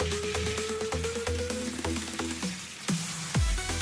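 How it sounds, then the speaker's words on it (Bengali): Potatoes frying in oil with bay leaves and cumin in a home kitchen pan, a soft steady sizzle broken by sharp clatters and scrapes of a spoon stirring. "আলুগুলো দিয়ে আমি আলুগুলো ভালো করে ভেজে নেব।"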